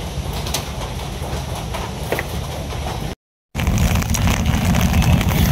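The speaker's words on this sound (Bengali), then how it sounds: "ট্রেনেও চলে যাইতেছে" A train passes by during rain, a loud, continuous rumbling roar close by with a brief cut of silence midway, then the rumble resumes even heavier.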